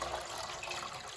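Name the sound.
water poured into espresso machine water reservoir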